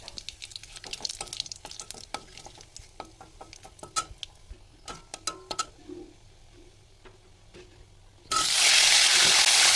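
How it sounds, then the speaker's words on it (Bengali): Dried red chili and nigella seeds stirred in hot oil for a Bengali drumstick and potato dish, with close scraping and light crackling taps that give way to a sudden loud, steady sizzle near the end. "এখন একটা দিয়ে দিচ্ছি শুকনো লঙ্কা, দিয়ে দিচ্ছি সামান্য কালো জিরে, দিয়ে একটু নাড়াচাড়া করে নিচ্ছি"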